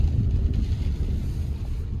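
Strong wind gusts across the open hills on a wet day, a steady low roar that buffets the microphone without any talk.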